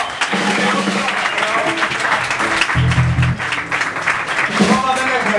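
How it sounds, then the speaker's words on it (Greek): Applause from a crowd at a live rock show in a small rock cafe, loud and sustained, with talking and instrument sounds mixed in. "Ένα μεγάλο χειροκρότημα."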